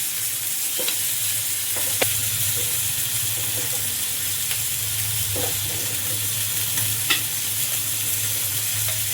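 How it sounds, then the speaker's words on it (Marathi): Bangda, Indian mackerel, fries in oil with a continuous close sizzle and crackle, broken by a few sharper pops and spatula scrapes, with no talking. "आपला बांगडा एका साईडने पूर्णपणे छान असा फ्राय झालाय."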